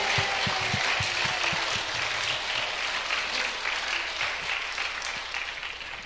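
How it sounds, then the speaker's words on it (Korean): Church congregation clapping in worship to Jesus, a dense, steady roar of many hands that holds for about six seconds and slowly fades, with a few low thumps early on. "If you believe with me, clap to Jesus, give him glory."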